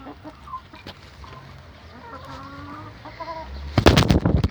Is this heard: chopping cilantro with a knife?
no